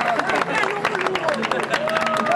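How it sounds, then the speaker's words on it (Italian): A festival crowd honouring San Giovanni Battista claps and cheers loudly in a dense, continuous burst of applause, with excited voices and chatter mixed through it. "Applausi."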